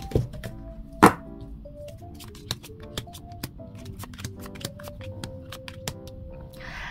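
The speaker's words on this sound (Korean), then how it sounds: "추가 카드를 뽑아보도록 할게요" Tarot cards being shuffled and drawn, with soft papery flicks, light taps and a sharper thunk as cards are set down, quiet and intermittent over a faint background.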